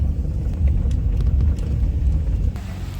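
Cars stuck in a long traffic jam at the Naithna Mandir Ghee Sankranti fair give off a steady, heavy low rumble of idling engines, close and continuous, easing slightly near the end.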